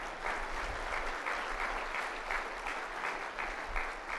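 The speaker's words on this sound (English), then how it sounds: "Yes, that's worth applauding." A convocation audience applauds steadily for several seconds, a dense, even patter of clapping heard from the hall.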